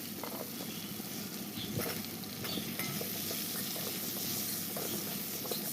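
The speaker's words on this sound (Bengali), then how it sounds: "এবার ভালো করে নাড়িয়ে দিয়ে দেব সামান্য আলু।" Bay leaf, ginger, onion and potato fry in hot oil while being stirred for a Bengali crab curry, a dense, loud, continuous sizzle with scattered scraping strokes, close up.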